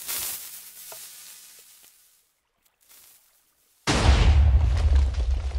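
A Minecraft TNT cannon goes off: faint crackle and fizz fade to near silence, then a sudden loud, sustained roaring blast with heavy low rumble fills the last seconds.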